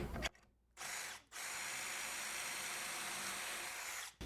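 A power drill whirs into wood in a brief burst, pauses, then runs in a long steady high-pitched drone while drilling pocket holes in a shelf, before stopping.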